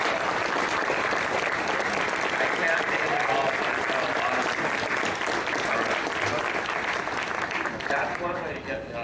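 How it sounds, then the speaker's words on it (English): Sustained applause from a large audience at a Disneyland Main Street USA window dedication ceremony, steady and dense clapping filling the whole stretch with a faint murmur of voices beneath, tapering slightly at the very end. "I want to give you applause"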